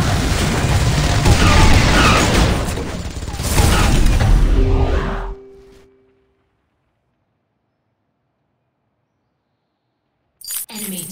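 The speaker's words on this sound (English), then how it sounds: "Enemy turret destroyed." A turret destroyed in the 5v5 mobile game Vainglory gives dense, loud crashing and booming bursts over several seconds. The noise cuts off into near silence, then briefly resumes at the end.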